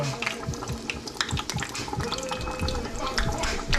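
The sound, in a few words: parsley frying in hot oil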